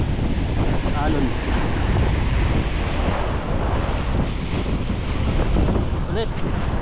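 Sea waves wash and churn at sea from a small fishing boat, with strong wind buffeting the microphone in a constant loud roar and brief voices calling out now and then.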